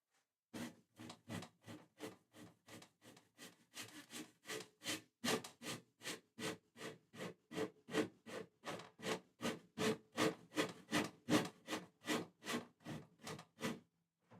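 A luthier shapes the bevel of a wooden guitar body by hand, making about thirty rhythmic rasping strokes. The strokes are close and steady and speed up slightly, with short gaps between each scrape.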